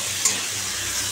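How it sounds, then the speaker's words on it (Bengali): Meat sautéing in a pan with turmeric, cumin and coriander powder, making a steady, close hissing sizzle with a brief stir near the start. "শুধু হলুদ, একটু জিরের গুঁড়ো, ধনের গুঁড়ো দিয়েছি, দিয়ে ভালো করে কষাচ্ছি।"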